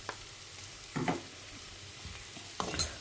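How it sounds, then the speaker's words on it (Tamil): A spatula stirs grated coconut through vegetables frying in a pan, giving a few short scraping strokes over a faint steady sizzle with no talking. "ஒரு பெரட்டு இங்கே பெரட்டிட்டு ஒரு நிமிஷம் கழித்து இதை ஆஃப் பண்ணிட வேண்டியதான்."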